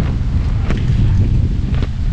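Strong wind at a campsite in Morong, Bataan buffets the microphone with a constant low roar and rumbling gusts, close and loud throughout.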